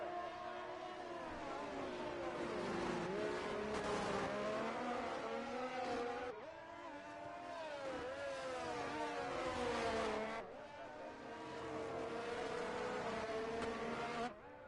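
GP2 race cars on the Azerbaijan Grand Prix circuit in a racing video game, their engines whining loudly and steadily with shifting pitch, rising and dipping across several passes without talk.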